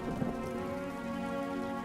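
Steady rain falls with a dense, even hiss, and a low rumble of thunder rolls under it. A brief louder patch comes near the start.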